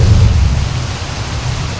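Heavy rain pours down at a campsite while a deep roll of thunder rumbles loudly at the start and fades into the steady wash of rainfall.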